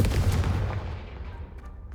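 A single Confringo spell blast in the video game Hogwarts Legacy: one sharp, heavy boom close up, its rumbling tail fading quickly over two seconds.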